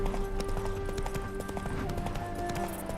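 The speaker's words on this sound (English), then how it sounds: "Spooking my horse." Rhythmic clip-clop of horse hooves in The Witcher 3: Wild Hunt trots along steadily beneath a low hum and ambient background, with no voices.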